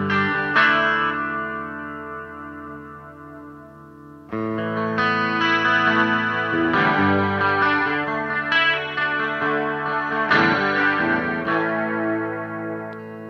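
Electric guitar played through a Laney Black Country Custom Spiral Array chorus pedal, sustained chords and ringing notes with a swirling, shimmering modulation and some grit, alone and close for about thirteen seconds.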